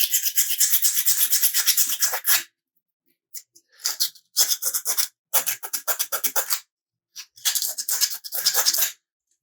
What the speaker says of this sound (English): This is 80 grit sandpaper.